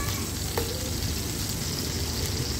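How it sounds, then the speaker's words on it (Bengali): A piece of pangas fish rubbed with salt and turmeric fries in hot soybean oil in a wok, giving a close, steady sizzle and bubbling crackle without pause or voices. "লবণ হলুদ দিয়ে মাখিয়ে তেলের ভিতরে দিয়েছি।"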